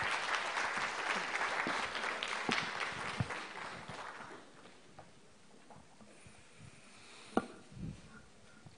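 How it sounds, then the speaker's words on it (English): Conference audience applauds a minister being welcomed to the stage, a fairly full round of clapping that thins out by the midpoint into scattered claps, shuffles and a few sharp knocks in a large hall. "Ladies and gentlemen, please give a round of applause to His Excellency Bapak Syafruddin."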